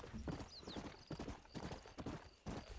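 Hooves clip-clop in an uneven rhythm while a horse gives a short whinny, close and clear, with a faint whistling tone above, in the video game Red Dead Redemption.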